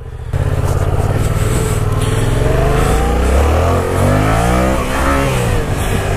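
A 2016 Yamaha FZ-07 motorcycle accelerates hard on a road, its engine note climbing loud and close through rising revs, with no talk over it.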